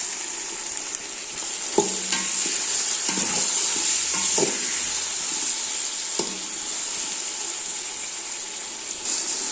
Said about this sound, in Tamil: தக்காளி வதங்குறதுக்காக நம்ம உப்பு சேர்த்துக்கலாம்.